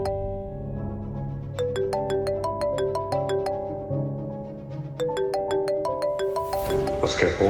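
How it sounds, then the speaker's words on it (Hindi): A phone rings inside a house, its melodic electronic ringtone repeating in clear rising and falling note patterns, steady and fairly loud, with no speech over it. "उसके फोन की रिंग तो घर से ही आ रही है"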